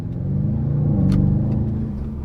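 A 2022 Audi RS7 accelerates hard from inside the car. A steady, deep engine and exhaust rumble drones throughout without letting up.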